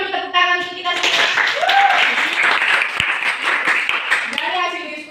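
A Grade 10 Indonesian-language class applauds together after group presentations, giving a steady burst of clapping for about five seconds while children's voices and a teacher's speech carry over it.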